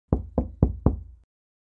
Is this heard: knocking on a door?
yes